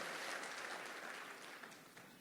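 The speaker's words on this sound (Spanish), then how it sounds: "dele un aplauso al Señor por su palabra" A church congregation claps in applause for the Lord, a soft, distant wash of many hands that slowly fades over a couple of seconds.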